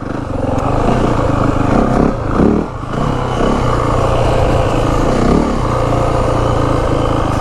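A 2025 Yamaha WR 450F dirt bike ridden in second gear with a little clutch, its engine loud and close in a steady roar, dipping briefly before pulling hard again, with rattling clatter from the bike.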